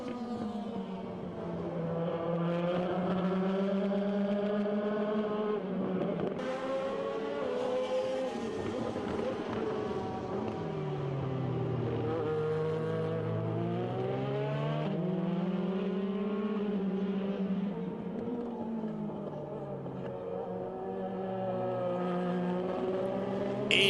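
ELMS endurance race cars, including an Alpine and a Porsche, battle side by side through a long stretch, their engines droning loudly and continuously with rising and falling pitch as they rev and shift.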